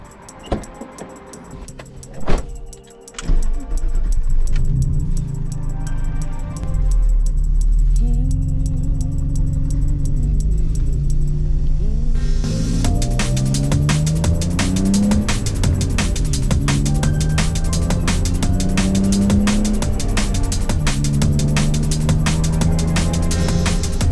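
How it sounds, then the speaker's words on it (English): A BMW E30 with an M52 B28 engine swap and a 3.38 differential sets off on a drive: after a brief start-up the engine drones steadily from inside the car, climbing and dropping in pitch through the gears. "This is my BMW E30 with an M52 B28 in it, and we're going to go for a little drive."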